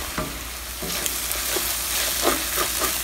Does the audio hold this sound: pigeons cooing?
no